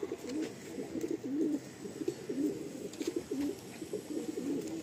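A female Madras pigeon with a long beak coos in a steady string of soft, repeated calls close by, with no one speaking over it.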